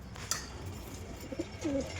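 Pigeons in a rooftop cage give a few soft, low coos close by, separated by brief pauses against light background noise.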